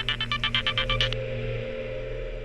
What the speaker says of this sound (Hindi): एक मिनट, सुदेश का फोन है।